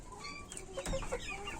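Chickens give soft, scattered clucks inside their coop, faint and close, with a few short calls over a low background hum and no voices.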